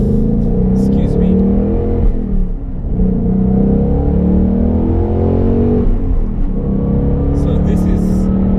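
2018 Ford Mustang GT V8 with manual transmission, its engine pulling and revving from inside the car, a steady loud rumble that rises and dips while someone talks over it.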